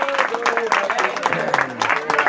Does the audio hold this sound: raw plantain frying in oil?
no